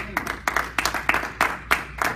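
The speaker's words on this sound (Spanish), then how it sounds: "Den un aplauso al Señor," A church congregation claps during a Spanish-language sermon in short, rhythmic bursts of clapping, moderately loud and evenly paced with a few voices mixed in.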